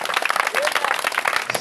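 Crowd applause with scattered cheering at an evangelization night gathering, dense and continuous clapping at close range filling the moment without pause.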